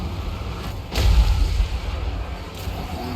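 Artillery firing in Total War Warhammer 3, a deep thudding boom hitting about a second in, rumbling low under a continuous battlefield din, with a softer follow-up report later.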